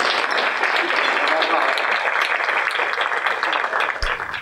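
Audience applause at a remembrance awards dinner, a steady dense wash of clapping sustained throughout, loud and close, ending with a sharp thump near the end.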